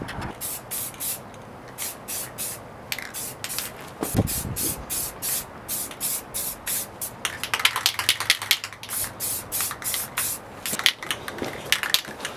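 Repeated short bursts of an aerosol can spraying Ace gold metallic mirror-gold paint onto car parts during a VR6T turbo swap, hissing in a steady rhythm of quick pulses, close and fairly loud, with one brief knock partway through.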